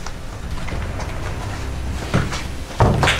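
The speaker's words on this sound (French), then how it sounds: "Attends, viens, on ferme la porte là." An old door in a château is pulled shut during a night-time paranormal investigation, with two sharp knocks and thuds landing close by over low background rumble.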